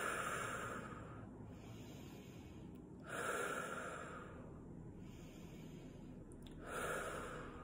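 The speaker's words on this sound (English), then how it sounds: "we'll begin with a few deep breaths. Inhaling through the nose, exhaling through the mouth." Slow deep breaths at close range in a quiet room, each long airy inhale through the nose followed by a softer exhale through the mouth, repeating about every three and a half seconds with no talking.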